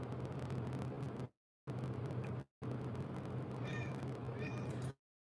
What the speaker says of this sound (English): Anybody else have a cat who growls? Because my cat growls.